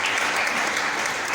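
A church congregation applauding, dense continuous clapping filling the short moment at steady loudness.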